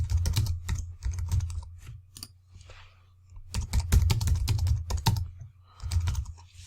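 Rapid clattering keystrokes on a computer keyboard while a blog post is typed, coming in dense bursts with short pauses between them, close and fairly loud with no talking.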